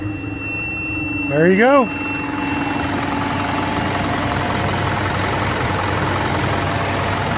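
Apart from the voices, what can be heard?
Isuzu NPR/NRR truck engine cranking and idling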